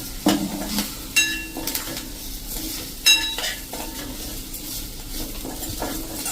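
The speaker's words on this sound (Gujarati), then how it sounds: "આ રીતે 1 મિનિટ તેલમાં એને સાંતળી લેશું મસાલો" Ground masala spices for samosa filling sizzle in hot oil in a pan while a spoon stirs and scrapes, with sharp metallic clinks every second or two over a steady close frying hiss.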